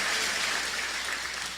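A church congregation claps in a dense, even burst of applause that fills the short moment without a break.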